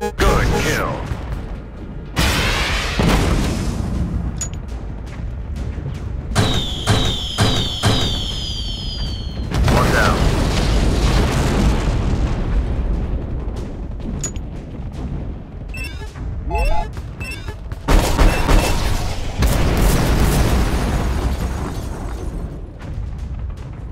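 Explosions and weapon fire in the video game Drone: Shadow Strike, with repeated heavy booms and bursts over a continuous engine drone and game sounds, loud and close throughout.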